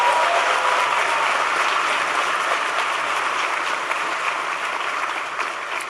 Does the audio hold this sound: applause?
yes